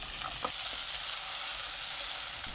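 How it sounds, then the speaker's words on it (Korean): Potatoes stir-fry in a tablespoon of cooking oil over high heat: a loud, steady sizzle close by, with a few quick scraping and tapping stirs near the start and again at the end. "팬에 식용유 1큰술, 감자 넣고 센 불로 볶습니다"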